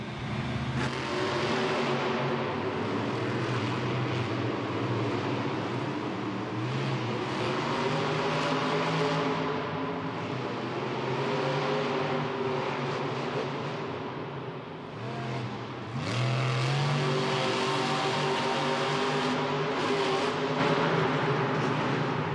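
Monster truck engines roar loudly and continuously as two trucks, Lucas Stabilizer and Excalibur, launch and race at a Monster Jam stadium event in Miami, with revving surges, a brief dip, then a renewed full-throttle roar.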